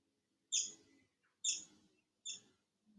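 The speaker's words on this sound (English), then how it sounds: "I'm noticing my attention move back out to the sound of the birds" A bird calls outdoors on a quiet morning, giving three short bright chirps about a second apart, clear but not very loud, against otherwise near-silent surroundings.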